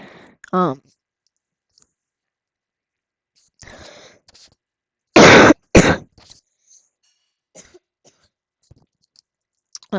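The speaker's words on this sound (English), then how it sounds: "Sorry, I had to cough again." Two sharp, close coughs burst out in quick succession amid near silence, preceded by a soft throat noise and followed by faint clicks.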